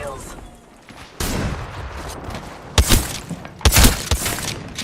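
Enemy gunfire in a video game rattles in loud, close bursts, with a sharp volley, then heavier clustered shots and a second cluster, over a steady background din.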